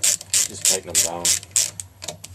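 Quick ratchet clicks in several rapid bursts while tightening bolts on a Saab 9-3 water pump, close and crisp, with a faint low hum underneath.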